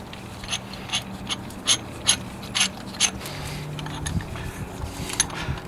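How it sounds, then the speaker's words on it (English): A caliper rewind tool ratchets back the piston of a Volkswagen Passat front brake caliper, giving a series of close, sharp mechanical clicks in an irregular rhythm, with quiet workshop background between them. "Let's now push the caliper all the way back in."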